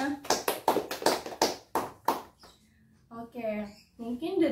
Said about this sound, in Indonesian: beri tepuk tangan untuk kelompoknya Mas Bima